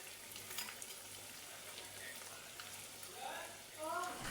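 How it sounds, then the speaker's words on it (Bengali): Maggi noodle pakoras deep-frying in hot oil until deep red, giving a soft, steady bubbling hiss that stays faint throughout and swells slightly near the end. "দেখো একদম আমি লাল লাল করে ভেজে নেবো"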